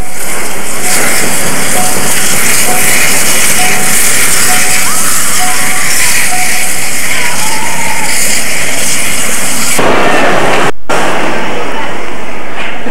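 A China Railways SL Pacific steam locomotive rumbles past running light engine with a constant loud hiss and chuffing roar, steady throughout, with a brief dropout near the end.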